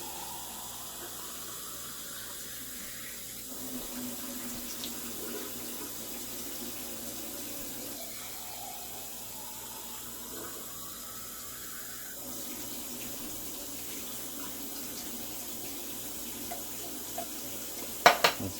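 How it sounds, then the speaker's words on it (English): Tap water runs steadily into a cooking pot while meatballs are made with tomato soup, a continuous close splashing flow that shifts tone partway through and ends with a few clinks. "We're going to add 2 cans of water."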